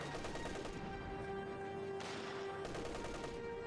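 An MG30 machine gun in a video game firing long rapid bursts, a dense continuous rattle of shots that stays loud and close with only brief breaks between strings.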